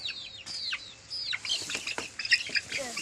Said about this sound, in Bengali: মুরগিতে পাগল হয়ে গেছে